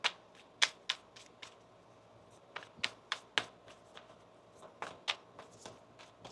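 Tarot cards being shuffled: a string of sharp, crisp riffles and slaps in quick irregular bursts, close and fairly quiet, with no talking.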